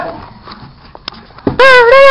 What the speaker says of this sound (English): Dogs are going crazy because she's in the house.